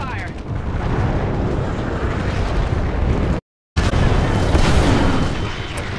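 Dense gunfire and explosions in the shooter Titanfall 2 form a loud, continuous barrage of booms and bursts. The roar cuts out briefly, then resumes at full intensity.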